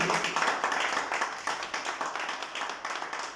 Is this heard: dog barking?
no